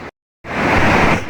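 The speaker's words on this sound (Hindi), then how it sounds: "पानी कितना जो है ना आपस में टकरा रहा है, इतना तेज़ पानी है" Fast-flowing water of the Indus river crashing and churning, a loud continuous rush that cuts in after a brief silence and holds steady.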